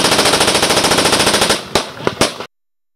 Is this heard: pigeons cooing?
no